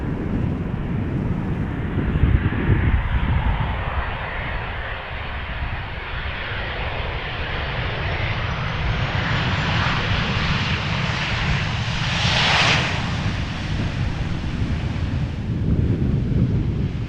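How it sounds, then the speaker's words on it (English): Loud, continuous jet engine roar and rumble from a Boeing 737-800 arriving at Amsterdam Schiphol Airport in gusty crosswind conditions, with wind buffeting the microphone throughout. "In the foreground is a Boeing 737-800 arriving from Edinburgh."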